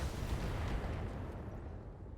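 Mech weapons fire on a target in the game Battletech, a loud, booming burst of explosive rumble that fills the moment and then fades away, with no voices.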